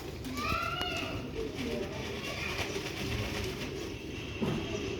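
Old Ferozpuri pigeons coo close by in repeated soft, throaty phrases, a few overlapping, with a low background murmur running underneath.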